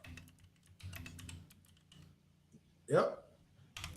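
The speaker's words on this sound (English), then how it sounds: "I got this clicky keyboard, y'all." A clicky computer keyboard is typed on in close, irregular bursts of sharp clacks, with a short vocal sound partway through.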